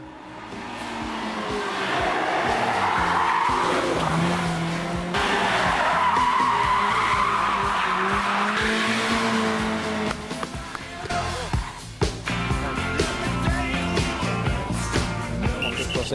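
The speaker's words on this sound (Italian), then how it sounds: "le macchine sono con dei motori elettrici che sono alimentati a corrente a 12 volts e le macchine corrono su autopiste con il binario" Electric slot cars powered at 12 volts race along a slotted track, their motors whining and tyres squealing continuously and loudly through the whole stretch, with brief spikes as cars pass.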